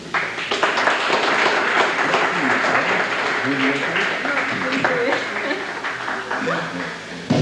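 A studio audience at a 1992 TV talk show anniversary broadcast applauds a guest, with steady, sustained clapping running underneath ongoing speech throughout.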